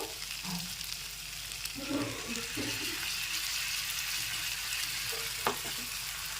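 Spice paste with tomato puree cooking down in oil for a fish curry gives an even, moderate sizzle throughout, with soft spatula scrapes and stirring knocks near the start and no one speaking.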